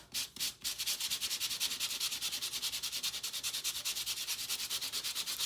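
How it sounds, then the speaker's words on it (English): Rapid, steady scraping strokes of a sanding block rubbing across card, a brisk back-and-forth rhythm continuing close and loud throughout. "We're going to go ahead and use a sanding block over the top."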